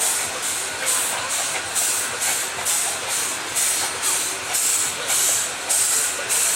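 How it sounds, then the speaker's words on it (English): Steam traction engines, including a Sentinel timber tractor, chuff along in a slow race at the Tinkers Park traction engine rally. Steady hissing exhaust beats repeat at an even rhythm of about two per second, continuous and fairly close. "and Guy Osborne doing extremely well there with the Sentinel timber tractor in the centre"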